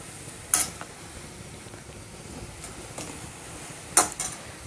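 Onions fry with ground dried coconut powder in a pan while cooking black-pepper bhuna mutton, giving a soft steady sizzle broken by two sharp spoon scrapes against the pan.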